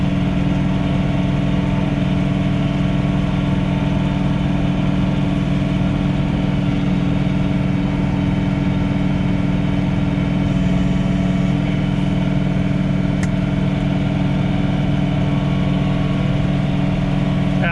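John Deere 3046R cab tractor engine running steadily at night while snow blowing, a continuous low droning hum with even tone throughout, close and fairly loud, no talking.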